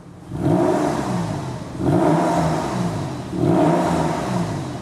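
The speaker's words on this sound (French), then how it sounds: "Pédale d'accélérateur, on met des petits coups de gaz." A Porsche engine, just serviced with a new fuel filter, is given three short throttle blips. Each one swells into a rising rev that falls back toward idle, loud and close, with no voices present.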